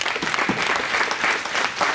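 Audience applause after a pipe-maker interview, a dense steady wash of many hands clapping at once, loud and continuous for the whole stretch with no talk over it.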